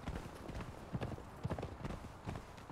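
Horse hooves clip-clopping in the video game Conan Exiles, a steady rhythmic run of close, fairly quiet hoof strikes.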